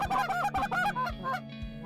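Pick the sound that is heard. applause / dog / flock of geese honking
flock of geese honking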